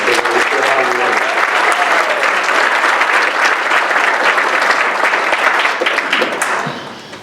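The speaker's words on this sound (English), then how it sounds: "Please give them a round of applause." Sustained audience applause at an awards event fills the room loudly and evenly, with a faint voice early on, then tapers off in the final second.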